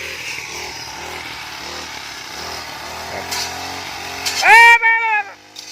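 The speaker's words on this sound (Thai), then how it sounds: "อันนี้ตัดหญ้าเสริมครับเพราะว่าต้นมันสูงแล้วครับ" A steady motorized grass cutter drone runs throughout with a fluctuating rhythmic whine as it cuts tall grass, then a brief louder squealing sound near the end.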